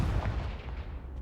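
Confringo, the blasting curse in Hogwarts Legacy, goes off as a single heavy, booming explosion that rumbles loudly and fades over about a second.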